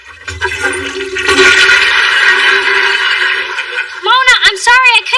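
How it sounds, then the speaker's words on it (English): A toilet flushes loudly in a sitcom scene, a sustained rushing gush lasting several seconds before tapering off as people begin talking over its tail. "I couldn't hear you over the toilet flushing"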